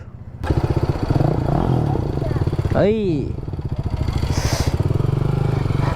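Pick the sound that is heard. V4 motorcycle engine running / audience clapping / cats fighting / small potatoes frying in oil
V4 motorcycle engine running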